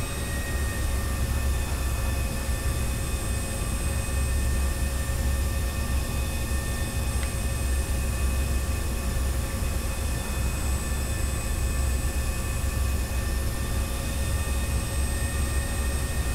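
An airliner in X-Plane 11 rolls for takeoff with a steady, loud engine roar and a constant high whine holding at the same level throughout, with no voices.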